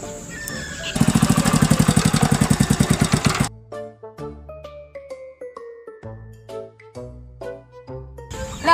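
A motorbike engine idles with a rapid, even putter for a few seconds, loud and close, before it stops and music takes over.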